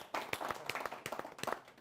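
Audience applause welcomes the poet Kavita Tiwari at an India–Pakistan poetry gathering, with a brief, fairly faint burst of scattered handclaps from a crowd.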